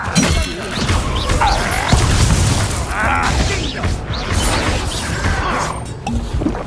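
The Confringo blasting spell explodes in Hogwarts Legacy during a loud duel, with booming, crashing blasts over continuous battle noise while voices shout.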